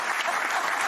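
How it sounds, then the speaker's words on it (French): Studio audience applause on a French TV talk show, a dense, steady burst of clapping filling the whole second with no voices over it. "On l'applaudit et je l'applaudis"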